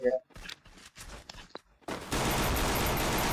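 Video game gunfire, a sustained dense burst of rapid shots that fills the last second or so loudly, preceded by scattered game sounds and brief noises.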